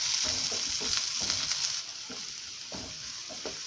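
Chopped tomato sautéing in a pan with onion, a steady hiss with repeated scraping stirs, loud at first and then a bit softer.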